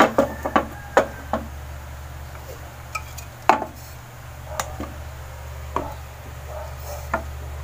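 Dishes and containers clatter and knock while cooked gelatin for a coffee jelly dessert is moved into a container, with sharp, irregular clinks and taps scattered over a low steady kitchen hum.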